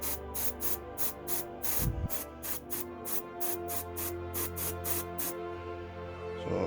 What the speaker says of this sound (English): So I'll probably will airbrush this corner